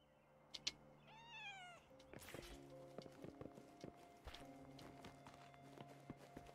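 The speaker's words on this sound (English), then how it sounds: "Oh, I can pet the cats now." Cats meow in a video game: a few rising, wavering meows near the start, followed by soft game footsteps and light clicks over a steady background hum.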